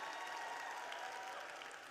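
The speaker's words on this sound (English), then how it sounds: "Can we give another round of applause" A crowd at a live interview event applauds steadily, a dense wash of clapping that holds at an even level for the whole stretch with no voices over it.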